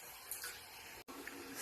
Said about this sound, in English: we're gonna let the water run so it can get hot